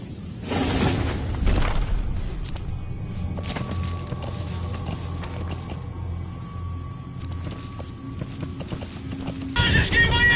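In Metal Gear Solid 5: The Phantom Pain, a horse's hooves clip-clop along with a whinny, set among game ambience and mechanical sounds, with some voice chatter in the mix.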